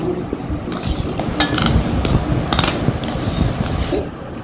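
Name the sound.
mixing salt into cupcake batter in a bowl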